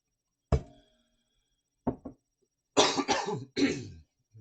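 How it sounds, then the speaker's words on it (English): A single sharp cough, then a short double cough, followed by a harder, raspier pair of coughs, close up with silence between. "I'm sorry about the cough."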